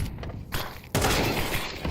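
A single sharp gunshot for a headshot in a Counter-Strike match, a sudden loud crack partway through, then a sustained noisy wash of gunfire and crowd-like noise.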